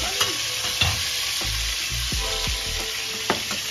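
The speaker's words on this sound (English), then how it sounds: "Our meatballs are fried." Meatballs frying in a pan for a meatball sub, with a loud, constant crackling sizzle broken by several sharp knocks and scrapes as they are turned, close up and without talking.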